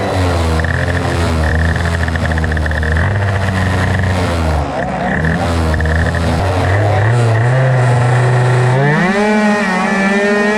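Piaggio Zip 100cc scooters screaming through a national scooter speed trophy race final, a loud continuous high-revving two-stroke whine with pitch climbing and shifting as the pack accelerates.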